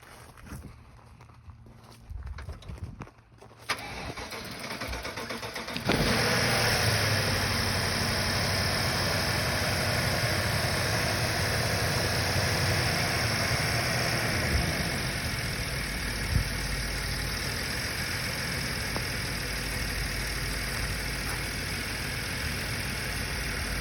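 A 2011 BMW 550i F10 with its N63 V8 starts after a high pressure fuel pump replacement and settles into a steady, close idle after some faint shuffling.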